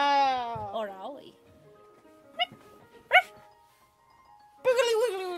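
A person imitates a dog with a warbling, bark-like vocal, then gives two short sharp yaps and a final longer whiny bark, close and loud with quiet gaps between.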